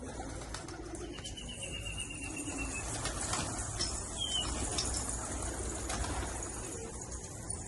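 Soft pigeon cooing on a rooftop pigeon loft over a steady, noisy outdoor background, with faint chirps in between.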